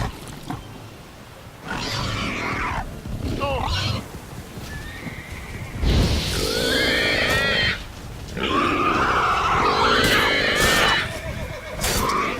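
Roach, a horse in the video game Witcher 3, neighs in loud, wavering whinnies over a continuous rumbling bed, with pounding hoofbeats and a voice talking at times.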